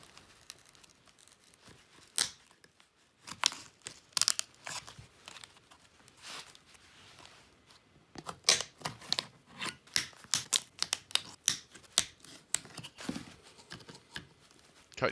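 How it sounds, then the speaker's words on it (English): Staples prised out of a wooden screen printing frame with a screwdriver: scattered sharp clicks and scraping pops, sparse at first and then a dense run of quick snaps, close and fairly quiet with no talking. "Remove the staples using a screwdriver."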